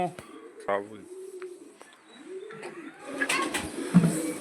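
A pigeon coos softly in low, rolling phrases, with rustling and a few sharper noises building toward the end.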